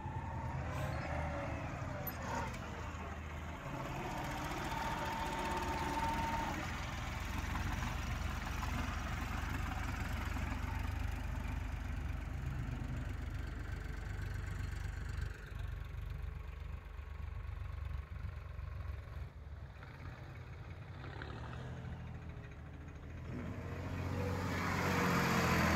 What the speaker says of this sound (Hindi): ट्रैक्टर भाई आ रहा है